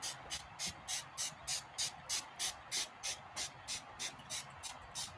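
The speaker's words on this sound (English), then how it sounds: "Okay, so I'm going to get a little bit more spray. And this spray water is going to blend with that polymer." A spray bottle mists water onto polymer in an art studio, giving a steady series of about fifteen short, even hissing bursts, close up and fairly quiet, with no talking.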